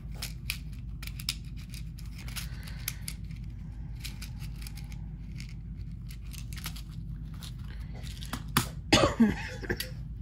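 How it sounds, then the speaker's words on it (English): A person with asthma lets out a short cluster of close coughs near the end while crimping a tube on a jewelry piece, after quiet handling and rustling sounds. "Asthma, cough"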